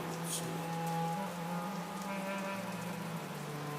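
Rain falls steadily in a constant soft hiss of drops on surfaces, with a faint tonal hum lying underneath throughout.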